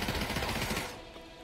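Rapid automatic MP5 fire in the Pavlov VR shooter game, a dense, loud burst of shots that stops after under a second and leaves a short fading tail.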